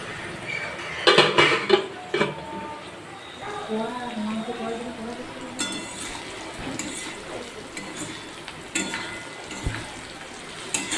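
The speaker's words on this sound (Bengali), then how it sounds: "নাড়াচাড়া করছি যাতে একটু তাড়াতাড়ি ভাজা হয়।" Chicken pieces are stirred and fried in a pan, with clattering utensil scrapes and knocks over a soft sizzle, while a voice briefly talks in the middle.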